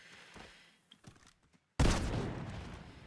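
A sudden loud burst of gunfire from Fortnite solo trios gameplay erupts midway and sustains with rapid shots, after a quieter stretch of scattered clicks and faint game sounds.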